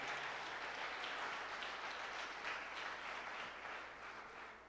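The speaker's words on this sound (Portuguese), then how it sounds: "Você pode dar uma salva de palmas ao Senhor." Church congregation giving a round of applause during a live mission service, steady moderate clapping sustained throughout and fading slightly toward the end, with no speech over it.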